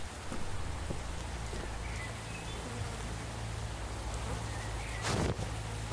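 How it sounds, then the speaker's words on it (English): Rain falls steadily outdoors, a soft continuous hiss of drops close by, with a brief louder splash or gust near the end and no talk. "And that's rain. It's a rainy day, even though it looks clear outside."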